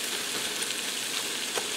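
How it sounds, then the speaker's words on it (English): Onions sizzle steadily in the pan of a Power XL air fryer grill combo with its lid off, a dense, even hiss that stays close and constant throughout, with no voices. "I'm just going to go ahead and break my onions up and slowly caramelize them down."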